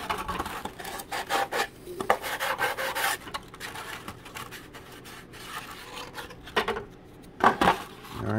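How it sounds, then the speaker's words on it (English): A hobby knife scrapes excess glue off the wooden ride pads of a 1:20 scale mini hydroplane kit: close, uneven rasping strokes in bursts, with short pauses between them and no talking. "I'm using my hobby knife here just to scrape any excess glue off these ride pads"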